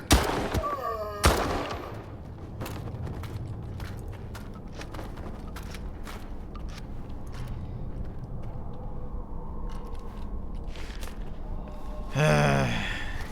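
Shotgun blasts in the video game S.T.A.L.K.E.R. 2, a loud sharp report at the start and another near the end, with steady ambient game noise between.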